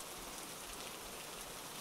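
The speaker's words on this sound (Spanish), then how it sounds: "La lluvia no aminoraba." Rain falls steadily on a surface as an even, continuous patter with no pauses, moderately quiet and with no talking over it.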